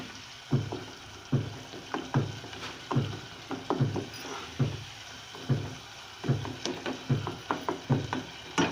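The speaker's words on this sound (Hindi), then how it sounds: "और अब मैंने स्पून से इस तरह मैश कर दूंगी।" A spoon mashes fried tomato masala in a pan for keema aloo matar, knocking against the pan in a steady rhythm of close, repeated thuds and scrapes, about two per second, with a faint sizzle underneath.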